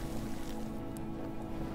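Steady boat engine running in the FAR: Changing Tides video game, a continuous low mechanical drone with a hum band and broadband wash, constant and close with no talk over it.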